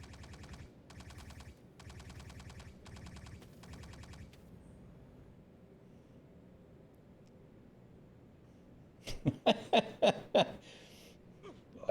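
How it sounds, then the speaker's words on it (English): Automatic gunfire in Star Citizen: several rhythmic bursts of rapid shots at first, then a pause with low ambient hum, then a sharper, louder cluster of close shots near the end. "they're shooting at you already"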